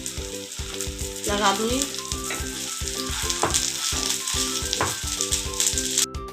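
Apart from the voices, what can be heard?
potato sandwich frying in oil on a griddle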